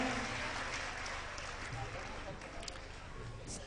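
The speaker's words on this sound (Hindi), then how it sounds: "जोरदार तालियां बजा के इन सबका आप भी सम्मान करें" Applause from an audience at a Ram Katha gathering, honoring donors: a steady wash of clapping that carries throughout and builds in a few sharper bursts near the end, heard at a moderate distance.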